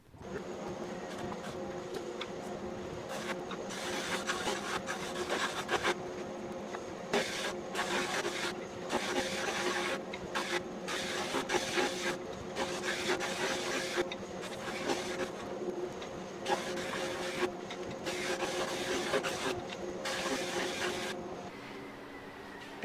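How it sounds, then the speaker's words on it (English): Drum sander flattening stacked wooden rings in a workshop, a continuous whirring machine hum with dust collection running, its rough grinding texture rising and dipping in short bursts as pieces pass through. "I need to sand them down flat so that they will fit together smoothly and flat. And I'm going to do that on the drum sander."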